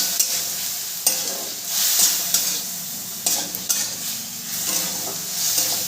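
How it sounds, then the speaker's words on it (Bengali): Spice paste of ground coriander and cumin sautéed in a pan with ghee, a loud continuous hiss and sizzle broken by repeated spatula scrapes and taps at an uneven pace. "এবার মশলাটাকে আমি ভালো করে কষিয়ে নেব।"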